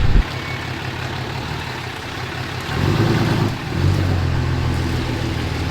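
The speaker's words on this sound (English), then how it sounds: "I wanna hear this thing revving" A Ram Cummins pickup truck's engine idles steadily close by, then swells into a louder rev around the midpoint, drops briefly, and rises again into a sustained higher throttle.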